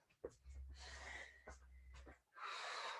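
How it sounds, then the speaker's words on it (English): Loud, quick gasping breaths and wheezy exhales from someone doing burpees, in a few sharp bursts close to the mic. "Nice smooth breathing."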